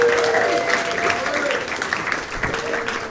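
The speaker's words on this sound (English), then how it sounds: "Please keep clapping for Wayne Memmott." Comedy club audience clapping for the next act, a loud, fairly close burst of applause that stays steady and starts to thin out near the end.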